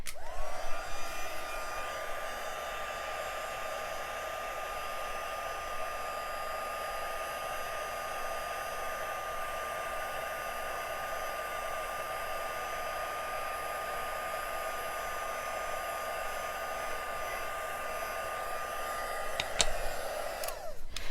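A heat embossing tool blows hot air over a handmade card, producing a steady, loud whirring drone that runs unbroken for about twenty seconds before a click as it switches off.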